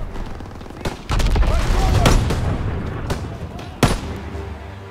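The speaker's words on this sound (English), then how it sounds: "Gunfire! We must be near our guys." Battlefield gunfire in the Call of Duty WWII video game, with bursts of rifle and machine-gun shots and heavy booming blasts rolling together into a dense, loud barrage, sharp cracks standing out near the start and end.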